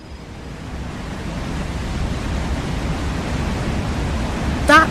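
A waterfall rushes from its top edge, a broad, steady roar that swells slightly and holds without a break, with a brief higher clatter near the end and no speech.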